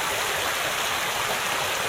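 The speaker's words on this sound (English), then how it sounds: "Toward that waterfall, and it makes it look really pretty" A small waterfall on a creek beside a homemade dam, giving a steady, close, full rushing and splashing with no pauses or voices.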